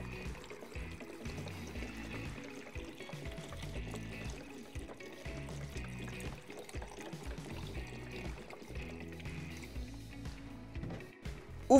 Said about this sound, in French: versez une dernière fois de l'eau déminéralisée directement dans votre cuve